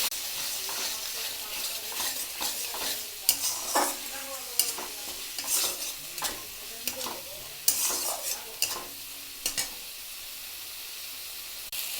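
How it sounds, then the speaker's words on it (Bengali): Food being stirred as it fries in a pan, with repeated scraping strokes over a steady oily sizzle. The stirring comes in irregular bursts across the whole stretch, and no one speaks. "আবার একটু নেড়ে নেব।"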